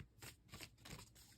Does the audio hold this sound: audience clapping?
no